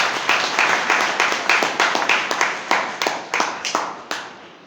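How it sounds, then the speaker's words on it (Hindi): An audience at a motivational talk claps loudly in a quick, fairly even rhythm for several seconds, the clapping close and dense before thinning out at the end. "तो एक बार जोरदार ताली हो जाए।"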